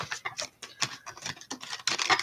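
Tarot cards shuffled by hand during a live reading, a quick series of crisp riffling bursts and flutters in an uneven rhythm, close up and alone without speech.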